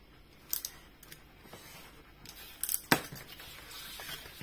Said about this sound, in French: je vais déjà couper en longueur comme ça